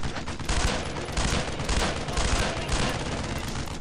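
Dense, continuous gunfire from the World War II shooter Brothers In Arms: Road to Hill 30, with overlapping rifle and machine-gun bursts crackling loudly and steadily for several seconds, with no talking.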